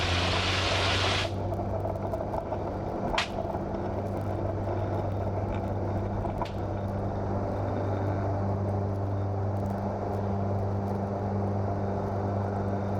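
Small training aircraft engine roaring at full takeoff power, a steady loud drone with strong low harmonics holding throughout after a brief burst of broadband noise at the start.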